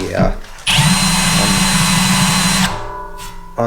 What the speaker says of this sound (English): run a countersink just to put a beveled edge on it, make it look good